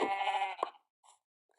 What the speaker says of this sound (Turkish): Koyun gel bakalım buraya.